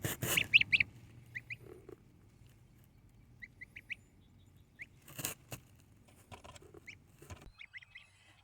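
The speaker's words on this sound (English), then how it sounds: "Today we have little baby goslings." Six-week-old baby goslings give short, high chirping peeps in scattered bursts, with a few soft rustles and pattering sounds between the calls in a quiet setting.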